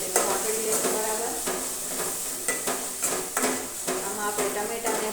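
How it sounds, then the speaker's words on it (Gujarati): Chopped tomatoes and chillies cooking in a pan, a continuous soft sizzle with repeated stirring clinks and scrapes of a utensil against the pan, close and moderately quiet. "હવે આપણે નાખીશું ટામેટાં સુધારેલા અને મરચાં"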